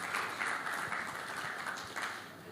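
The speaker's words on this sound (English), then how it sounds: "A bigger applause for that." A conference audience applauds, fairly faint and distant clapping that stays steady for a couple of seconds before easing slightly.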